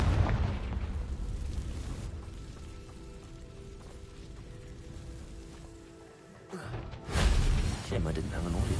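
Confringo blasting spell explosion in the video game Hogwarts Legacy: a rumbling, crackling blast fades into a steady hiss, then a second sharp burst flares near the end, with a voice under the sound.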